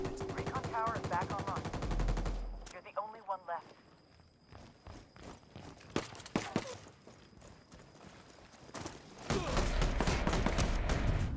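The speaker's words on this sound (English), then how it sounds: "I'm under heavy fire." Rapid bursts of automatic gunfire and scattered shots in a four-versus-four Ghost Recon Wildlands match, loud and close, mixed with heavy speech and footsteps, with a dense firefight swelling at the end.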